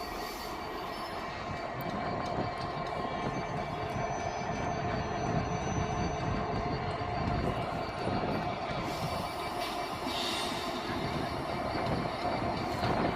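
A freight train hauling two flatbed wagons rolls past at Crewe station, a steady, continuous rumble with rail noise and faint wheel squeal, close and loud throughout without a break.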